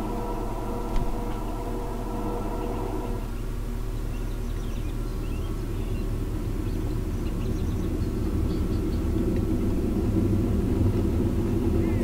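Jet engines of a Learjet 24B in a flight simulator build from a steady whine into a broad, growing roar as the aircraft rolls forward for takeoff, continuous and fairly loud with no talking.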